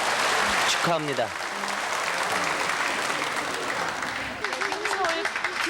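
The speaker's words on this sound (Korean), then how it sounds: "여러분 축하의 박수를 부탁합니다." A television studio audience at a 1983 KBS family-reunion broadcast claps for a reunited family. The sustained applause runs throughout, with voices speaking over it at the start and again near the end.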